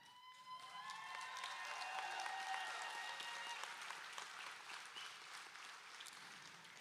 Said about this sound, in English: Give yourselves another round of applause, please.